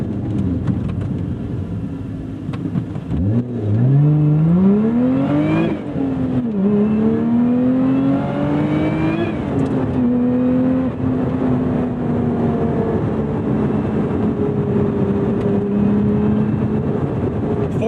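A Lotus Emira or Porsche 718 Cayman GTS 4.0 sports car engine revs up hard with rising pitch, shifting gears and climbing again, loud and close, sustained through the whole stretch.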